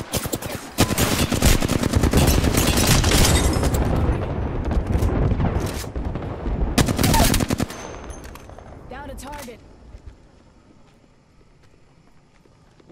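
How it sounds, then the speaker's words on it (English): Rapid automatic gunfire in Apex Legends rattles in loud, dense bursts, breaks off briefly, then returns before fading into quieter game ambience with a voice speaking. "I am taking fire."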